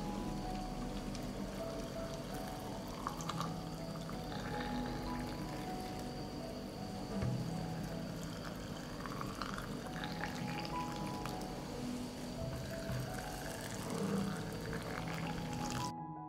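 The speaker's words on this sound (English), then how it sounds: "I pour boiling water into jars." Boiling water is poured into glass jars in a continuous hissing, splashing stream that stays at a fairly even level, nearby and unaccompanied by talk.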